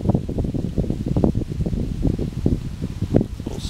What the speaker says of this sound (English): A little windy out here today.